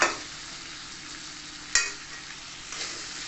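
Fried ivy gourd stirred in a pan with spices and a little sugar gives a soft, steady sizzle, with a scrape of the spatula partway through and another stir near the end, without voices.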